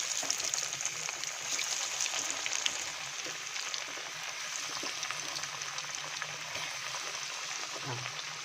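Brain frying in hot oil in a home kitchen, giving a steady, soft sizzle with fine crackling pops that runs evenly throughout at a modest, close level.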